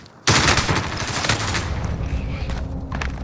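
Gunfire in the Call of Duty Rebirth Island battle royale map: a sudden loud burst of shots breaks in, then dense rapid firing rattles on steadily at close range for a few seconds.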